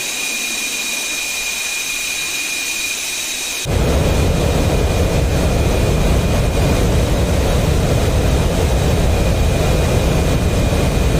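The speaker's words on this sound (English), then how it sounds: "Tu-22 M3. Real beast of a plane, this one." Tu-22M3 bomber jet engines in DCS World roar up abruptly after a quieter whine, settling into a loud, steady broadband rumble that fills the rest of the stretch.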